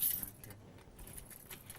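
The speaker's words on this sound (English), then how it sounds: "Where's the key? I always get confused with these keys, yeah?" Keys jangling on a ring in a hand while someone searches for the right key at a door, faint irregular metallic clinks over low background noise.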